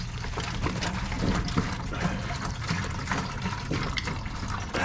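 Water pours steadily from a gallon jug into a container to mix with tea, giving a continuous splashing, gurgling stream at close range with no talking.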